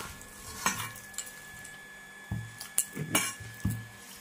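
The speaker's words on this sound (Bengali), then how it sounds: "এগুলোকে চামচ দিয়ে চেঁচে নিতে হবে" A spoon scrapes at ripe food in a kitchen, giving a few separate close clinks and scrapes spread over several seconds, with a faint background hiss and no talking.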